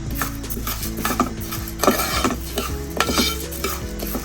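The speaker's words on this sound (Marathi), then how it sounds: "मुगाची डाळ, दोन्ही सुद्धा डाळी तुपावर मस्तपैकी परतून घ्यायच्या आहेत." Moong and toor dal being roasted in ghee in a metal pan, with a spoon repeatedly stirring and scraping against the vessel in steady close-up clinks and scrapes, alone without talk.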